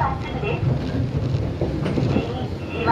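An electric train on the Shizuoka line rumbling steadily along the tracks, heard from inside the car, with a muffled Japanese announcement voice over the low hum.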